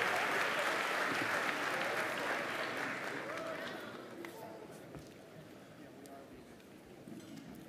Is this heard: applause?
yes